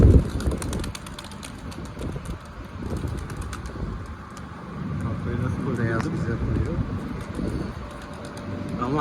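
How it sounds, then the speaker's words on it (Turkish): Mardin pigeons in a coop give soft, low cooing and occasional wing rustles that stay in the background under steady nearby talk, with some wind noise throughout. "Daha içeride kuş var arkadaşlar. Bitmiş değil."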